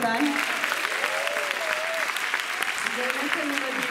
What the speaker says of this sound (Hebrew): מגיע להם עוד פעם מחיאות כפיים